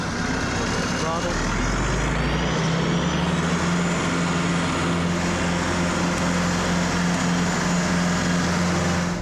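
Diesel engine of a tracked stump grinder idling and rumbling steadily in transport mode, loud and close, with a low, constant drone that rises slightly in pitch partway through.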